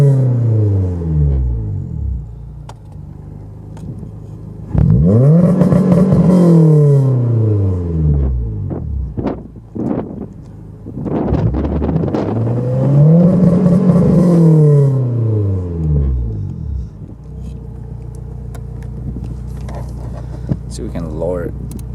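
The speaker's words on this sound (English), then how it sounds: "E-brake setup, normal, just rev limiter." Honda S2000 AP1 engine running against a Bee R type H2 two-step rev limiter. The engine idles, then surges in two long, loud, close rev sweeps that climb, hold and fall back to idle.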